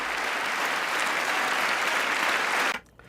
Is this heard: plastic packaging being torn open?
no